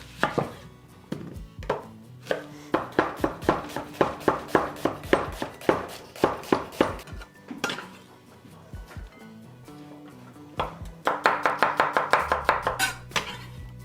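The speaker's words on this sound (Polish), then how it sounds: "Skroję jedną czerwoną cebulę." Red onion being chopped with a knife on a board, a rapid series of crisp, close thuds in quick bursts with short pauses between runs.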